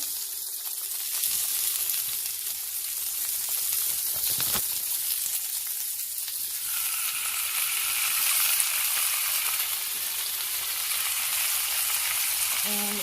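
Turkey meat frying in a pan, a steady broadband sizzle that holds evenly throughout at close range, with no talking.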